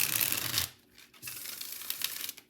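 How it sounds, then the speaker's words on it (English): A new Seasons of the Witch Winter tarot deck being shuffled by hand: a dense riffling burst, a brief pause, then another longer run of soft papery card shuffling, close and clear with no talking. "This is the first time I'm shuffling this deck, so get ready, friends."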